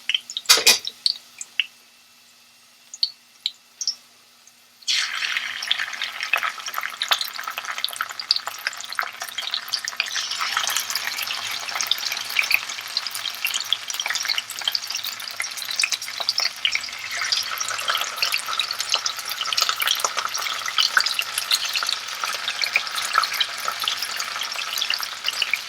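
Potatoes frying in a pan while braised short ribs are cooked, a few clinks and taps at first, then a dense, steady sizzle that runs loud and continuous for about twenty seconds, no voices.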